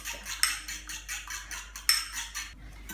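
Free range eggs are whisked in a bowl, with a metal whisk clinking against the side in a quick, steady rhythm of about a dozen close strokes.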